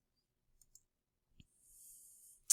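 Two quiet mouse clicks, then a soft hiss and one sharper final click, as the Submit button is clicked on a McGraw-Hill Connect online homework page.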